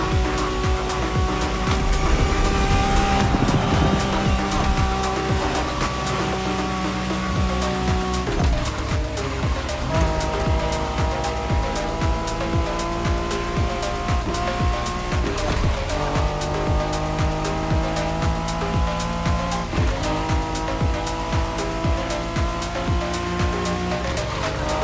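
Honda NSX race car in The Crew Motorfest, a loud sustained engine drone with shifting pitch and repeated gear changes, tires squealing at points, continuous throughout with a music-like tonal bed.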